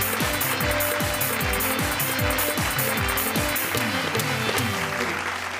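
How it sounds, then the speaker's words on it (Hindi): A live audience claps to welcome a poet onto the stage at a comedy poetry show. The applause is dense and continuous, and music with sliding tones plays underneath. "तो जोरदार तालियों के साथ स्वागत कीजिए चिराग जैन जी का।"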